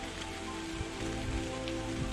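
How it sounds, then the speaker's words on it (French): Steady rain patters on the ground and gear along a foggy mountain trail, a continuous close hiss with a few brief footstep-like thumps and no talking. "Là il pleut."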